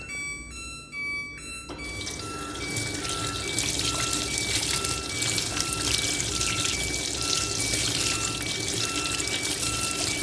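Liquid detergent pours into a fully automatic washing machine, a steady splashing, gushing flow that starts abruptly after a quiet moment, with intermittent electronic beeps sounding over it.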